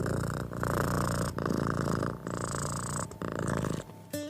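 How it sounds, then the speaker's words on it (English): A domestic cat purrs steadily and close up, curled on someone's chest, a continuous rumbling drone that holds for several seconds before briefly fading near the end. "That soft sound your cat makes when it's curled up on your chest"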